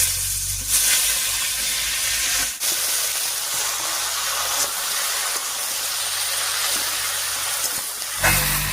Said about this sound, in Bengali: ফোড়নের উপরে লাউটা দিয়ে একটু নাড়িয়ে নিলাম